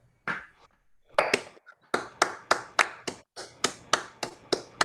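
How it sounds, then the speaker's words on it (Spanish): A small audience at an educational neuroscience talk claps, starting with a few scattered hits and then settling into a slow, rhythmic unison clap of distinct, close-sounding beats. "un aplauso"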